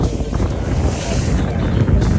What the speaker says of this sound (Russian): Волны разбушевались, реально.